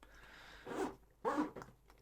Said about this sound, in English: it comes with two very nice zippers